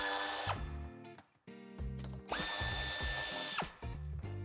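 A power tool drills out screws from the bumper of a 2020 Audi A4 Avant, in whining bursts that rise and fall in pitch with short gaps between them, close and clear.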